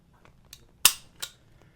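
A Colt Python .357 Magnum revolver's hammer falls with a sharp metallic click on a double-action trigger pull, followed by a softer click, close and crisp in a quiet room.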